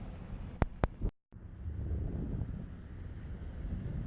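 Strong wind at about 800 feet up in Avalon, buffeting the microphone as a steady rough roar after two sharp knocks and a brief dropout.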